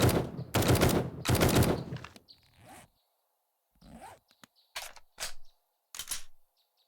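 Three rapid bursts from a tactical assault rifle in 7 Days to Die rattle out loud and close, followed by quieter clicks, handling noises and a few single sharp shots spaced apart.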